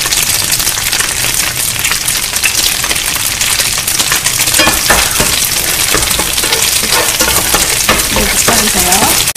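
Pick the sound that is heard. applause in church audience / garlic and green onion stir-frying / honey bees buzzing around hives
garlic and green onion stir-frying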